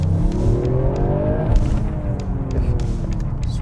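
A modified Toyota GR Yaris accelerates in first gear in normal mode, its engine note climbing steadily from inside the cabin, loud and continuous with some road and mechanical noise.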